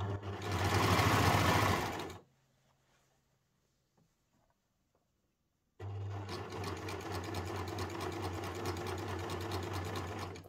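A sewing machine stitches back over a seam in two steady, fast-running bursts separated by a few seconds of near silence with faint handling clicks.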